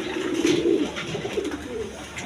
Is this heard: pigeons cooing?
yes